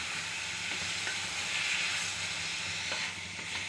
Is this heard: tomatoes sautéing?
yes